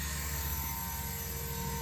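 A Blade Revolution 235 CP radio-controlled helicopter hovers and climbs just after takeoff, its rotor and motor making a steady, continuous drone at moderate level throughout, with no voices.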